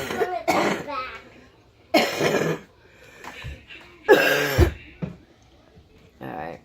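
Someone coughs in harsh repeated fits with throat clearing, several loud bursts separated by short pauses, close to the microphone, with a little speech-like vocalizing between them.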